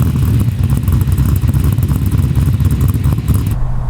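An LS1 V8 swapped into a Nissan 240SX rumbles loudly through a fully custom welded exhaust, a deep, choppy, continuous burble from close by with no talk, cutting off abruptly just before the end.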